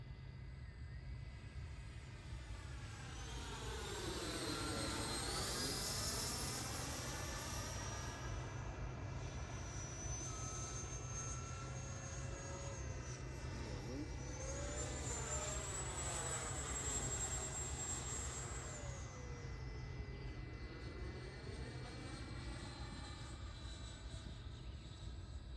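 An FMS BAE Hawk Red Arrow 80mm EDF model jet making a slow pass at about 30% throttle, a continuous whining ducted-fan drone whose pitch sweeps up and down with Doppler shifts as it passes, steady over a low hum, no voices.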